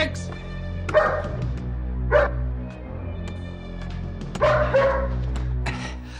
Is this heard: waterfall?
no